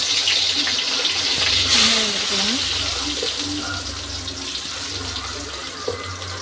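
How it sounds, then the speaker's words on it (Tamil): Mustard seeds and garlic frying in hot oil for an egg curry give off a dense, crackling sizzle that runs continuously up close, with a faint voice in the background. "எண்ணெய் ஊற்றிருக்கோம் அப்படியே கடுகு போட்டுக்கலாம் பூண்டு கொடுக்கலாம்"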